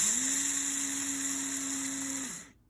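A food processor grinds whole flax seeds, a loud steady motor whir with a high whine that holds for over two seconds, then cuts off abruptly into silence.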